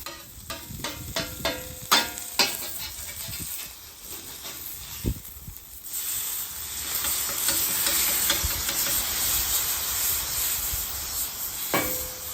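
Burger patty smashed with onions sizzling on a hot griddle, an Oklahoma fried onion burger, with scraping and tapping of a spatula early on, then a steady loud hiss of frying.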